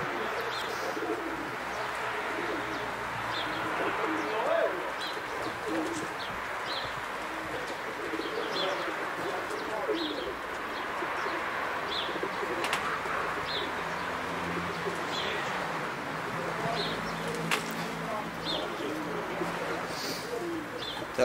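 Racing pigeons coo steadily around a loft at the finish of a winter race in Kosakowo. A continuous bed of soft cooing and chirps runs for the whole stretch, with occasional wing flaps.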